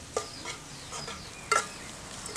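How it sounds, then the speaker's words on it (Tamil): Onions sauté in a pan until golden for chicken sukka, giving soft sizzling with a few sharp stirring scrapes, one louder clatter midway. "இது நல்லா பொன்னிறமாக வதக்கி எடுத்துக்கலாம்ப்பா."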